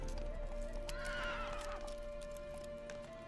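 Geralt's horse Roach runs in The Witcher 3: Wild Hunt, with quick clip-clopping hooves and a whinny over a steady sustained tone from the game, loud and close, with no talking.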